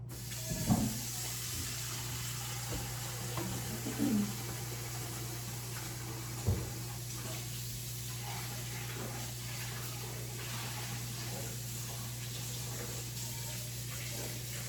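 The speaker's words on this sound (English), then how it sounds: "So let me rinse this real quick." A kitchen tap runs steadily with a soft hiss as a mixing bowl is rinsed beneath it, a few brief clunks and knocks of the bowl breaking through the continuous water flow.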